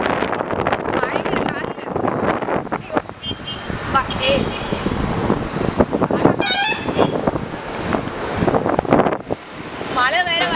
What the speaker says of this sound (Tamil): காற்று வேறு பயங்கரமாக இருக்குது